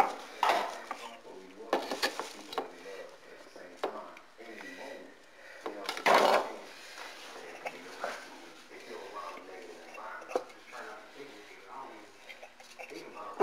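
Ginger, garlic and seasonings mixed by hand over raw oxtail in a kitchen bowl, with soft rubbing and scraping, scattered clinks and knocks of utensils, and a person talking throughout.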